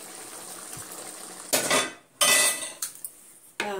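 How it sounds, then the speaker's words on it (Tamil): Oily brinjal curry being transferred from a cooking pot into a bowl, with a few bright metallic scrapes and clinks of a spoon against the vessels over a quiet kitchen background. "இதுல நான் பவுல்ல மாத்திடுறேன்."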